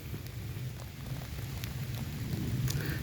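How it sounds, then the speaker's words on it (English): Steady rain falls outdoors at night during a glow-worm watch, a continuous close patter on surrounding surfaces with no break and no voices. "I know it's raining"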